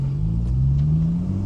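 A Porsche 911 991.1 Carrera engine revs through an Akrapovic titanium slip-on exhaust with a deep, gruff rumble, steady and close, its pitch rising slightly over the short stretch.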